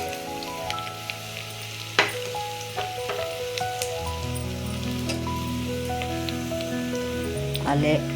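Onions and round-cut radish sizzle in a frying pan for vegetable sambar, with a steady close crackle, a few sharp clinks of stirring and background music throughout.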